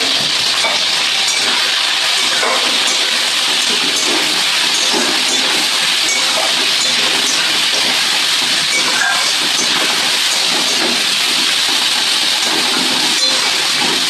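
Fish seasoned with salt and turmeric fries in hot oil, giving a loud, steady, close sizzle with a continuous hiss and small crackles that never pause.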